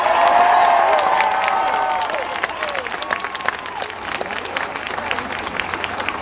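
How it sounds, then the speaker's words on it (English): A large crowd at a Barack Obama rally in Columbus, Ohio bursts into loud applause and cheering, strongest at the start and then settling into sustained clapping and scattered shouts that continue to the end. "Can everybody please give Jeff a big round of applause for that great introduction?"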